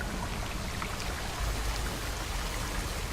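Steady rain pours in the horror video game Amnesia: A Machine for Pigs, raining blood and running through a grate, a dense continuous hiss with a low rumble, alone with no voices.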